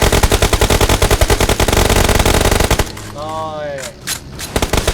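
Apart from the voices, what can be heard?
gunfire shooting at a vehicle in a video game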